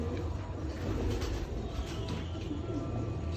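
Firozpuri pigeons coo softly beneath a dense, steady wash of background noise, their low murmuring calls continuous and partly masked.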